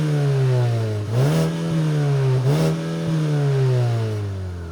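A 2024 Mazda 3 with twin exhaust tips revs from idle while parked, two sharp throttle blips rising and falling over a steady, close engine drone, with no talk.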